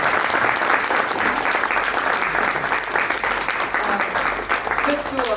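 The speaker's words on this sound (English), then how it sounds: "let's give a first round of applause to Kongkee, artist." An audience at an art lecture on an immersive Warring States punk art exhibition applauds after a film screening, with dense, steady clapping filling the room without a break.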